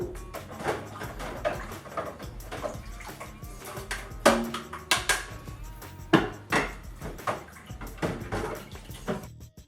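Water being squeezed out of soaked filter material while siphoning wine, heard as a close series of irregular wet splashes, drips and squelches with scattered knocks of handling.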